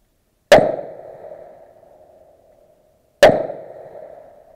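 Two loud, sharp gunshots at cowboy action shooting, each followed by a ringing metallic ping from a steel target that decays over a couple of seconds, spaced about three seconds apart with no talk.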